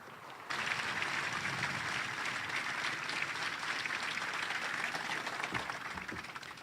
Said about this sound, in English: please join me in a warm round of applause for the Honorable Gabe Camarillo